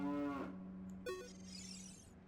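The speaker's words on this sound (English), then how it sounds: "Hold up, I need to talk to this cow." A cow in the video game The Legend of Zelda: Ocarina of Time gives two clear moos, a low drawn-out call followed by a second higher, brighter one, alone and close.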